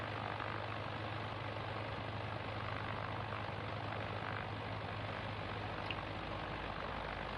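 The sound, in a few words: aircraft engine in a flight simulator video game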